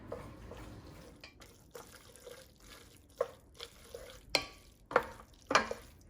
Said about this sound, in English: Just going to stir probably about half of it into the pasta to start.